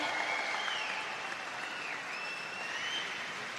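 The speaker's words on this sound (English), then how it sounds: "Everybody in London, give it up for Ellie Challis" Applause from spectators at a swimming championship in London, greeting a breaststroke medallist: a steady, moderately distant roar of clapping that fills the whole stretch, with faint announcer-like tones blending in and no clear words on top.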